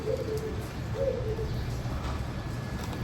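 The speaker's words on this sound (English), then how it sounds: "Maybe it's just a bird. Like those birds that we heard earlier." A bird calls outdoors in Arusha, Tanzania, giving two soft cooing notes about a second apart over a steady bed of ambient outdoor noise, with no one talking.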